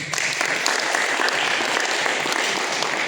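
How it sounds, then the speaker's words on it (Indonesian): A church congregation applauding during a worship service, dense and loud, sustained clapping that holds steady for a few seconds. "Tepuk tangan buat Tuhan Yesus."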